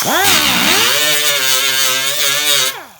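A grinding stone spins against the roof of a 1975 Ford LTD, a loud close whine that rises sharply in pitch, holds steady while cutting, then cuts off abruptly.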